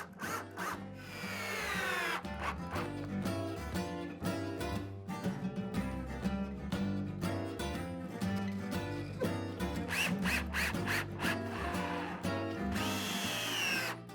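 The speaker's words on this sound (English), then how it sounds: "I insert the upper end rails and screw them in place" A power drill drives screws to fix upper end rails on a wooden outdoor food prep station, whining in repeated bursts that rise and stop, close and loud, with no talking.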